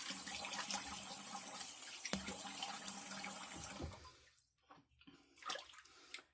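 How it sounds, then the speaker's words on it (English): Water draining from a bathroom sink after a shave, a steady loud gurgling rush that cuts off after about four seconds, leaving faint drips and trickles. "Let me let the water out and do a cold water rinse."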